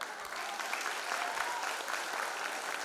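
Audience members at a school ceremony applaud the students, a steady, even patter of many hands clapping together, sustained and moderately loud, with a faint voice underneath.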